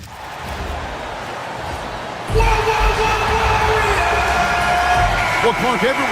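Crowd noise in a basketball video game, a steady murmur that jumps to louder cheering partway through, with a commentator's voice talking over it.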